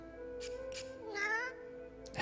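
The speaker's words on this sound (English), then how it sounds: "Oh, there's a cat." A cat in the video game Divinity: Original Sin 2 gives a single rising-and-falling meow midway, set against a steady background of game music and ambience.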